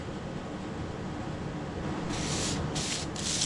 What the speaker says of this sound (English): I'm going to go ahead and spray this again so we can get one more coat on it